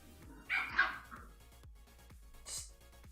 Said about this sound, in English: That's just the puppies, too.